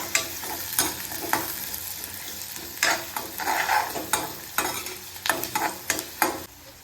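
Chopped onion dropped into hot oil with mustard seeds in a pan for sprouted moth bean usal, sizzling steadily with repeated bursts of stirring and scraping, close and moderately loud, no talking.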